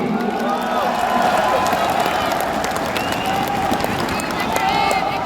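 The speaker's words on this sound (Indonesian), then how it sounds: "Tepuk tangan yang kurang meriah untuk Bang Dul." A crowd at a political rally in Banten, Indonesia claps and cheers continuously, dense applause mixed with excited voices and chatter throughout.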